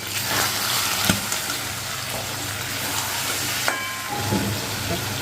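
Water poured into a pan of sizzling curry being fried, giving a loud, steady broadband hiss and spatter throughout, with a few faint clinks and no clear speech.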